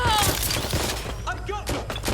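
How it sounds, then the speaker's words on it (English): Gunfire during a combat mission in the video game Watch Dogs: Legion, sounding as dense bursts of shots and impacts over a steady low rumble, with a character's voice briefly breaking through the fighting. "Taking fire!"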